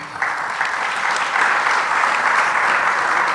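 Audience at a poetry recital clapping, a steady dense round of applause that holds at an even level throughout, with no talk over it.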